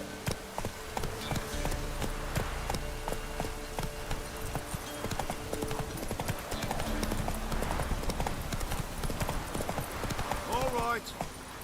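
Roach, the horse in The Witcher 3, gallops with a brisk, continuous clip-clop of hooves close by, rhythmic thuds running throughout, with a voice speaking over the hoofbeats.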